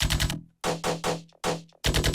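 Gunshot-style bass stabs synthesized in Ableton with an auto filter and resonance raised: five loud, punchy electronic bursts, each a thick low-end hit with a filtered, crackling top, separated by short silences.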